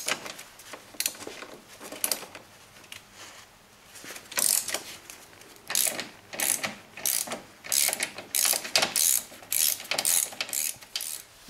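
A ratchet wrench unbolts the connecting rod bearing caps on a BMW M30 engine, producing close bursts of sharp, rapid clicking in uneven rhythmic runs separated by short pauses, with no talking.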